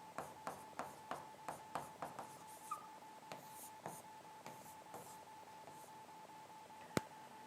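Marker or chalk writing on a board during a chemistry lesson, heard as a rapid series of light taps and squeaks that slows and fades, then one sharp knock, with no talking.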